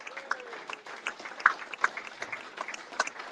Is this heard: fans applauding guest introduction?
yes